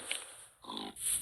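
A pig in a video game gives short grunts over about a second, quiet and close, with thin synthetic game noise around it and no talk.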